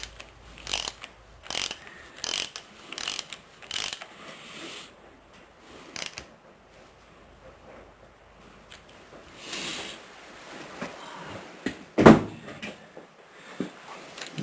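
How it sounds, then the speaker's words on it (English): Ratchet tightening a timing set bolt during a Ford 460 V8 engine build, a series of close, quick clicking strokes in short bursts with pauses between them, then a sharper metallic clank near the end. "I'm just going to use a regular ratchet."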